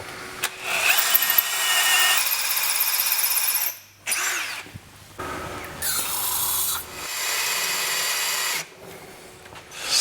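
A power drill bores through a chromoly flywheel and into the crank of a Ford Falcon engine, running in long, loud whining bursts that stop and restart several times.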